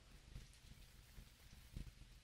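Steady, faint rain in the video game Dinkum, a soft even patter with no voices over it.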